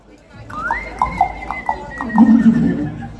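A horse gives a long, loud whinny while hooves clip-clop in quick beats close by, followed by a lower rumbling snort, with people talking nearby.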